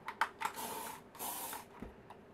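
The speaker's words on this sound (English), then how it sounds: "I just have another little spray" Hairspray misted onto styled hair set with heated rollers in a couple of short hissing bursts, with a longer spray in the middle, close and fairly quiet.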